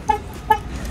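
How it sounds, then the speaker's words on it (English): Two short car horn toots from a car that won't start, about half a second apart, close by and fairly loud, with no talking. "I don't know how it could still honk"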